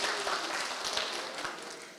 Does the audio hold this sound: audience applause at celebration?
yes